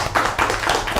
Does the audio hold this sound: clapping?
yes